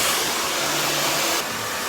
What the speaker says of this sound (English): I'm going to dry my hair, so I can then do all the final bit.